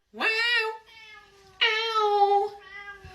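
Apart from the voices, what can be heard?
cat meowing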